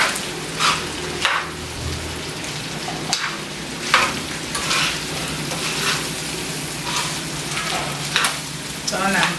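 Red kidney beans frying and being stirred in a pot for Nigerian fried rice, a loud, continuous sizzle with repeated scraping stirs breaking through every second or so.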